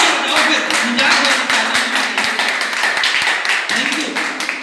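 A crowd at a Hindi speaking event applauds steadily, the dense clapping running on throughout with voices mixed in underneath.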